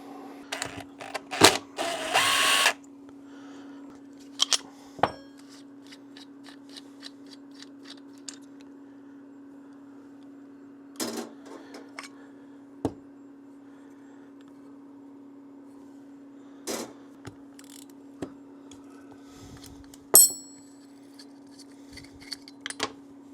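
Someone takes apart a Honda CR125R two-stroke motorcycle carburetor, producing sparse metallic clicks, taps and brief clattering bursts close by over a constant low electrical hum, with long quiet gaps between them.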